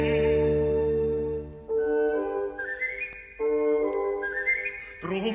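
The bird-catcher's panpipe whistle from Mozart's Magic Flute in a 1972 Vienna Philharmonic recording under Solti sounds as a clear, pure tone in short rising phrases, with sustained notes and orchestral tones beneath.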